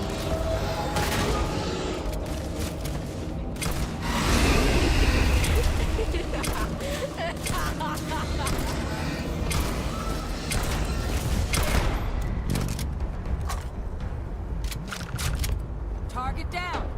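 Dense, sustained gunfire rattles through a battle in the game Starfield, with loud overlapping bursts and mechanical clatter building to a peak midway, while voices are heard shouting under the din.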